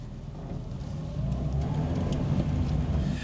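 A cheap Renault Clio drives along with a low, steady engine and road rumble that swells slightly partway through, with faint rattles above.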